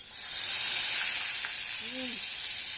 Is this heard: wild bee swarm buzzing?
no